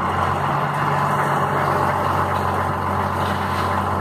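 A truck engine idles with a steady low rumble and hum throughout while bricks are unloaded by hand, with no talking over it.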